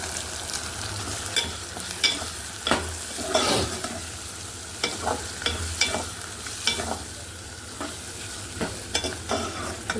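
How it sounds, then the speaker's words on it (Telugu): Onions, green chillies and curry leaves frying in a turmeric tempering for tamarind-leaf curry, a steady sizzle broken by repeated sharp scrapes and clatters of a stirring spoon against the pan, close up with no talking. "ఉల్లిపాయల్ని మంచిగా మగ్గనివ్వాలి"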